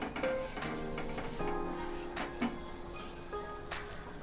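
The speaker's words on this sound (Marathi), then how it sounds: "जिरं आपल्याला अर्धा मिनिटसाठी असं तेलामध्ये परतून घ्यायचं आहे" Cumin seeds fry in hot oil in a kadhai, a soft crackling sizzle with a few stirring scrapes and clicks, fairly quiet and close.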